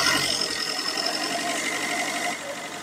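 A used car engine revving in a car shop, a steady, fairly loud mechanical drone with a rattling, buzzy edge that holds for a few seconds before dropping slightly at the end.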